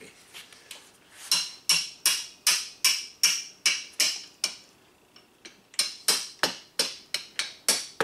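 Hammer tapping a stuck bolt on a Crossfire 150 go-kart, a close series of sharp metallic strikes in a fairly regular rhythm, roughly two per second, with a brief pause partway through and no talking.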